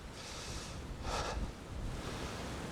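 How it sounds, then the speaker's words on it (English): Soft wind rushes and buffets the microphone outdoors, with a brief stronger gust in the middle; faint and steady otherwise. "It's windy as well today."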